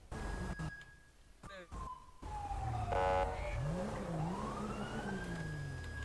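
A police siren wails and sweeps in pitch over engine noise and a rumbling car in the game Grand Theft Auto V on a FiveM server, with a voice speaking briefly amid the din.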